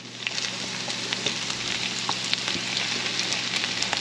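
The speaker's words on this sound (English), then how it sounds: "Now we just want to start to brown these up a little bit and cook these" Raw potatoes and chanterelle mushrooms browning in a frying pan, giving a dense, steady sizzle with scattered sharp crackles and pops, close and constant.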